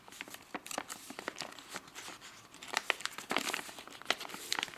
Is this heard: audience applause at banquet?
no